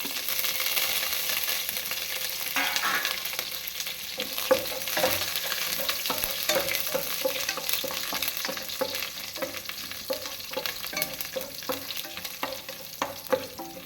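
Chili and curry leaves fry in a pan for a lentil and drumstick-leaf thoran, a dense, steady sizzle broken by frequent scraping stirs, close and continuous with no one talking.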